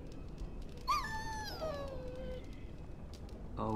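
A dog in the fantasy role-playing game Dragon Age: Origins gives a single high, drawn-out whine that slides downward over about a second, heard alone over a low ambient game background.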